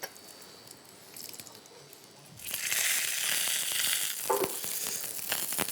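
Pigeon breasts searing in a hot pan, a quiet stretch giving way to a loud, bright sustained sizzle that holds steady with a few sharper crackles and spits near the end.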